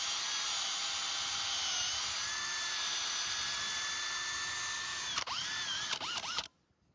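A 5/16 inch drill bit bores into a maple tree at a slight upward angle, a steady high whining drill sound running continuously for several seconds before sputtering, changing pitch a few times and stopping.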